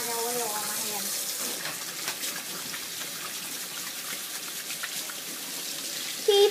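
Tap water runs steadily into a sink during hand washing, a continuous broadband splashing hiss that holds level for several seconds with faint voices underneath.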